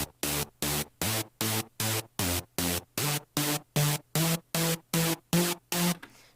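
Repeating Serum synth preset melody in a dnb track: about fourteen short, evenly spaced bright noisy stabs in a steady pulse, loud and close, with no one speaking.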